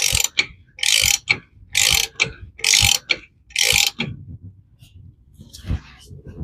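Ratchet wrench torquing down a bolt on the wheel hub of a 2019 Freightliner M2 drive axle, five loud rhythmic clicking bursts up close, then quieter handling noise at the end.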